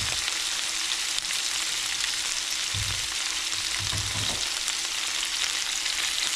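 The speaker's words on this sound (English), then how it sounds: "We're just adding the broccoli to it." Broccoli sizzles as it goes into a hot pan of stir-fried vegetables, a steady frying hiss throughout with a few louder bursts of crackle as the pieces land and are stirred.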